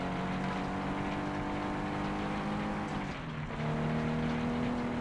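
A car engine drones steadily in the racing game FlatOut 2, an unupgraded car holding a constant hum at top speed around 103 with a brief dip in pitch before resuming, no voices.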